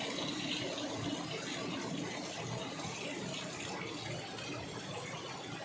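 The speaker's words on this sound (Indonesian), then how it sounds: "Di sana seperti air terjun ternyata." Water falls at an old spring beside a historic structure, heard as a steady broadband rushing that continues unbroken and evenly throughout, at moderate distance, with no voices.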